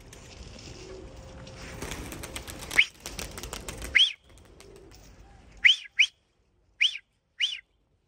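Tumbler pigeons' wings flap in quick bursts at close range, bright whistling flutters separated by pauses, with rustling at first.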